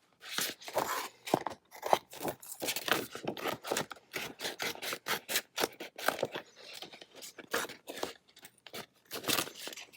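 Scissors snip repeatedly through stencil material, a rapid irregular series of sharp crunching cuts with brief pauses, close and crisp with no talking.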